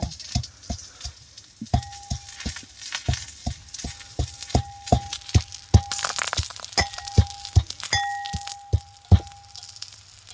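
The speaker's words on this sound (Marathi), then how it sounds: "सगळ्यात अगोदर आपल्याला हे खोबरं लसूण कुटून घ्यायचं" Coconut and garlic are pounded by hand for a rustic colocasia-leaf dish, a close series of sharp, regular thuds with a ringing metallic tone, roughly two to three strikes per second, steady throughout with no talk.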